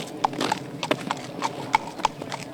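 Horse hooves clip-clopping at a walk at a showjumping horse park, a steady uneven series of sharp knocks at moderate distance with faint background ambience and no talk.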